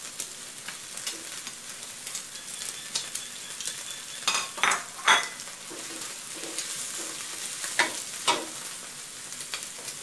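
Sesbania flowers stir-fried with egg and pork in a pan: a steady low sizzle broken by repeated sharp scrapes and clatters of the utensil, some louder bursts in the middle, no talking.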